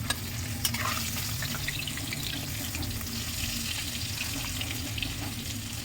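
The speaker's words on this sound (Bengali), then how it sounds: "ইলিশ মাছ তো বেশি না ভাজলেও" Hilsa fish fry lightly in hot oil in a kadai, producing a continuous close sizzle with a few sharp crackles and no talking.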